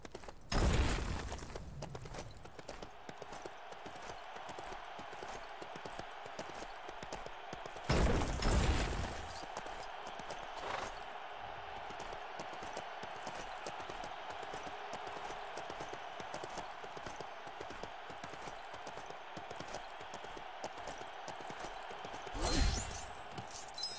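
A horse's hooves clip-clop steadily in Lego The Lord of the Rings, near Helm's Deep, a continuous fast rhythm running throughout, with a few louder bursts breaking in.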